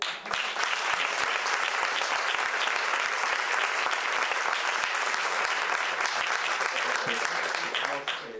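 Sustained audience applause at a live community event in Bilbao, a dense, steady wash of many hands clapping that fills the full stretch without pause, with faint voices mixed into the crowd.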